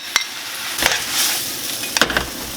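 Shrimp and squid stir-fried with sauce in a hot wok for ganjjajang, a bright continuous sizzle broken by a few sharp metallic scrapes and clanks of the spatula, close and alone without talk.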